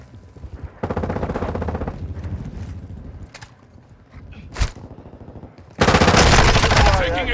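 Gunfire in a Call of Duty team deathmatch game, loud bursts of automatic fire in two long stretches with a single sharp shot between them and quieter gaps holding faint game sounds.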